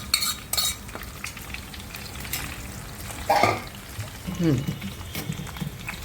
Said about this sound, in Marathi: याच्यामध्ये मी गरम पाणी करत ठेवले ते सुद्धा मी बाजूनी सोडणार आहे